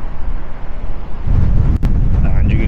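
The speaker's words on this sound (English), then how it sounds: "And you can see how windy it is today." Heavy seaside wind in Blackpool buffets the microphone in a loud, rumbling roar that grows stronger partway through, with a faint voice underneath.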